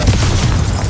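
A Confringo blasting spell detonates in Hogwarts Legacy, a loud, close, booming explosion with a heavy low rumble that fills the whole moment.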